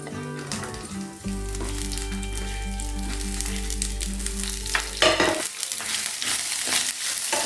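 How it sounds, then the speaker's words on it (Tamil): Onion, tamarind and garlic sautéing in a pan for instant poha idli, a loud steady sizzle with stirring scrapes throughout, no voices. "இப்போ இது எல்லாத்தையும் சேர்த்து நல்லா வதக்கிக்கலாம்."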